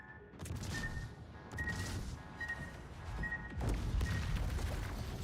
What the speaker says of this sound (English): We're gonna take these torpedoes like a champ.